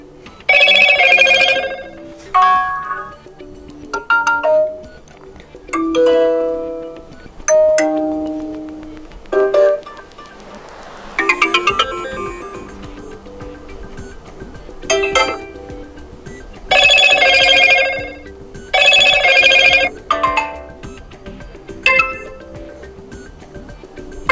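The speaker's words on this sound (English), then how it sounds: "let me show you all of them, starting with default notification sound" Default voicemail notification tones on a Motorola One Action phone, a series of short bright chiming alerts played one after another with brief silent gaps, loud and close with no talk.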